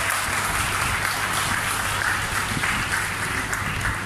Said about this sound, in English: I think we deserve applause for this.